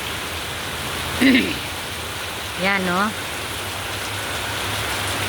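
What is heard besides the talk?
heavy rain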